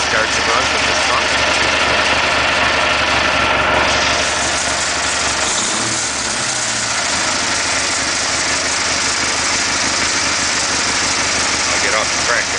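A Kohler engine on a tractor idles steadily after its mechanical fuel pump was converted to a vacuum pump: a loud, close, even rumble with a brief dip in tone midway, with no talk over it.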